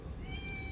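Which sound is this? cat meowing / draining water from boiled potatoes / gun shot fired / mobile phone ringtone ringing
cat meowing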